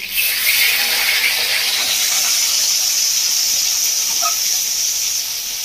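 A flipped rohu fish fries in hot oil in a village kitchen, giving a loud, steady hiss and sizzle that runs throughout with a few small pops near the end.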